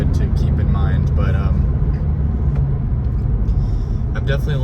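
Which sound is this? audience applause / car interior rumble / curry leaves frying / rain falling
car interior rumble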